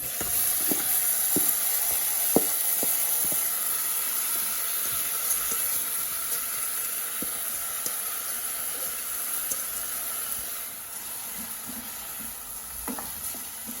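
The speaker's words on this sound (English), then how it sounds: "I'm going to be going in with my washed rice" Washed rice goes into a hot pot and sets off a steady, bright sizzle with faint scattered ticks and crackles, continuous and close, with no voices.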